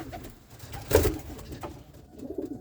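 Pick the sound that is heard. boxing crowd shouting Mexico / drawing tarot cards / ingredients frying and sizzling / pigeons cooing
pigeons cooing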